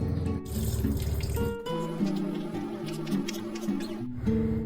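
Water runs and splashes continuously while urad dal is swirled and rinsed in it, with faint tonal music playing underneath.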